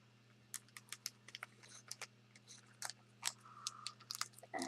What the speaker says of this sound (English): I'm going to open it and I'm going to cut the top of this off